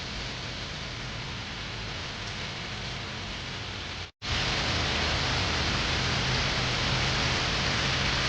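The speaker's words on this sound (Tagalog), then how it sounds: "Rain." Rain falls steadily outdoors as a dense, even hiss, briefly cutting out for an instant midway before resuming just as loud.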